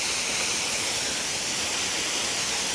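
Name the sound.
waterfall in an animated story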